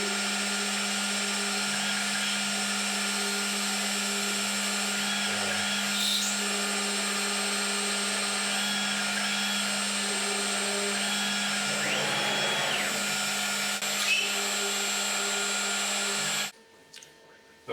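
An Oxman CNC router with a very sharp bit burns into wood rather than cleanly cutting, giving a steady, loud motor whine with constant hum that runs unbroken for about sixteen seconds before cutting off abruptly.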